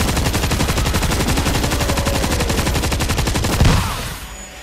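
Rapid automatic gunfire in the World War Z zombie video game, a loud sustained burst of closely spaced shots that cuts off near the end, with no talk over it.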